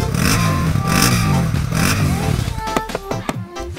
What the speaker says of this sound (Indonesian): Jom kita dengar bunyi motor.